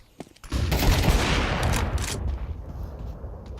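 A flashbang bursts in a video game firefight, a sudden loud blast that spreads into a dense wash of noise and gunfire, then slowly fades over a few seconds.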